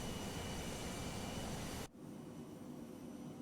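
Steady airplane engine drone in Microsoft Flight Simulator 2020, a broad continuous roar that drops abruptly to a quieter hum partway through, with no talking.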